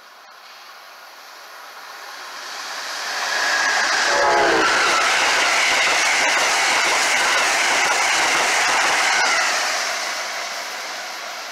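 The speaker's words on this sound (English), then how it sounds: "those Amtrak City Sprinters locomotive are awesome" An Amtrak City Sprinter locomotive hauls a Northeast Regional train past an MBTA station platform at high speed, swelling from a distant hum into a loud, sustained rushing roar with a brief horn, then fading slightly as it passes.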